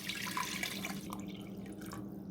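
Water pours steadily into a pot holding a bone-in chicken breast, a continuous splashing gush from a tap or jug that thins and trickles toward the end, with no talking.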